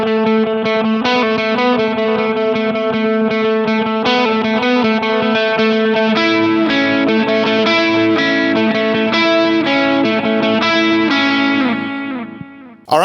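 Electric guitar played at full volume through a delay effect, a loud, dense wash of sustained distorted chords and ringing repeats from a worship song, steady throughout before cutting off abruptly at the end.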